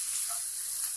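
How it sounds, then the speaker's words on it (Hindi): Masala spices sizzle steadily in oil in a pan over low heat, a soft continuous frying hiss for a Rajasthani dal. "अब इसको 1 से 2 मिनट तक हम इस मसाले को स्लो हीट के ऊपर इसी तरह से पकाएंगे।"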